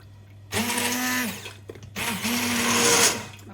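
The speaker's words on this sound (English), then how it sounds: "We're just going to get the stick blender and try not to make a huge mess and just get that nice and smooth." A stick blender purees vegan broccoli and ginger soup in two loud, whirring bursts, each about a second long, with a short pause between them and the motor's pitch dipping slightly as it works.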